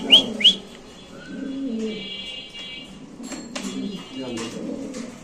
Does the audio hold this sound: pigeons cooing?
yes